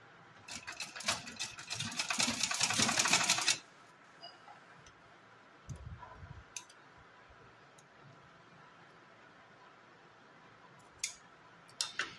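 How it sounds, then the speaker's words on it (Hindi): Sewing machine stitching thin folded fabric strips for a small Kanha (Gopal ji) summer dress, a fast dense mechanical whirring and ticking for about three seconds, then stopping, followed by quiet room sounds with a few faint clicks. "फोल्ड करते हुए हम यहाँ से सिलाई लगाकर इसको जॉइंट करेंगे"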